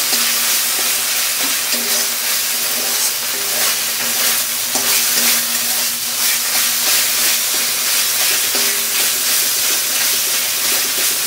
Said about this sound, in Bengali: আমার মশলাটা ভাজা হয়ে গেল